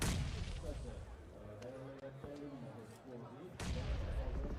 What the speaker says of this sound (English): Bombardment to Reject.